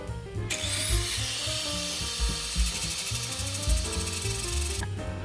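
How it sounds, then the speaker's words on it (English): A lathe turns a custom fuel pump hanger for a Nissan 370Z, giving a loud continuous metallic grinding and whirring with a bright, harsh edge that cuts off abruptly near the end. "this is the lathe here"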